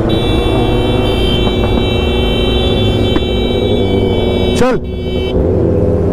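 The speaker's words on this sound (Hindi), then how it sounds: "सो गाइज अभी हम दोनों व्हीली मारने वाले हैं।" Motorbikes revving on a snowy trip before wheelies: a loud, continuous engine drone with one sharp rising whine near the end, and a voice calling out briefly.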